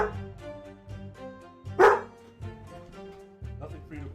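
A dog barks once, loud and close, over music and steady background sound, with a voice around it.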